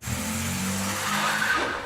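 A car in a film scene pulls away with a sustained tire squeal and skid over a low engine drone, loud and continuous for a couple of seconds before easing off.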